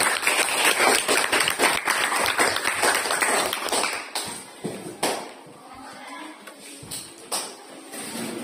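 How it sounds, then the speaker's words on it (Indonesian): A classroom of students claps for a group, a brisk, dense burst of hand claps that stays lively for about four seconds before breaking into a few scattered, tapering claps. "Kita kasih tepuk tangan untuk kelompok 3."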